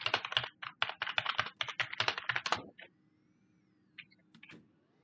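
Rapid typing on a computer keyboard, a dense burst of crisp clicking keystrokes for about three seconds, then a pause with a few scattered key taps, close and fairly quiet.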